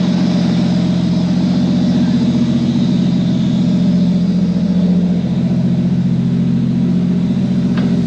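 A Mk3 Toyota Supra engine hums steadily while driving on a gravel driveway, a loud continuous low drone with a faint whine above it and no revving peaks.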